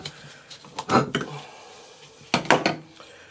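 Someone working a rubber oil hose off a rebuilt BMW 320d E90 turbocharger in a garage, giving a few scattered metallic clinks and knocks in two short bursts, close by with quiet gaps between.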